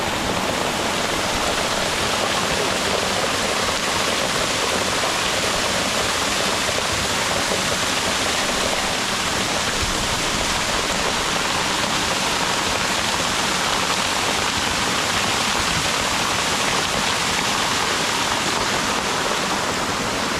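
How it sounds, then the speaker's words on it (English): A waterfall in the Foz do Iguaçu forest reserve roars as a dense, unbroken rush of falling water, loud and constant for the whole stretch with no talking. "Let's check the waterfall."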